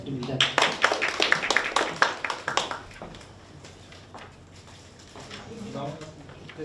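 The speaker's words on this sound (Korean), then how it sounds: "큰 박수 부탁드립니다." An audience at a debate forum in Busan claps for a few seconds, with scattered close handclaps that thin out and fade into a quiet room.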